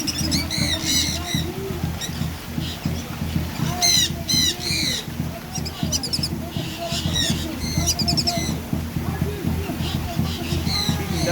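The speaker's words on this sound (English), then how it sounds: "Feeding ducks." Ducks being fed on New Year's Day squawk in repeated sharp, close bursts over a busy murmur of lower calls and shuffling, with people's voices mixed in.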